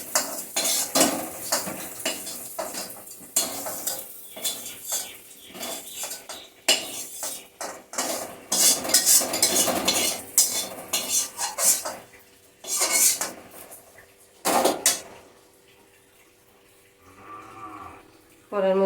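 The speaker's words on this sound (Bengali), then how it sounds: "ডালটা একদম শুকনো ঝুরি ভাজা করবো।" Lentils (dal) seasoned with turmeric and salt being dry-fried and stirred in a pan, with repeated scraping and clinking of a utensil in uneven bursts, close and fairly loud, ending in a quieter stretch.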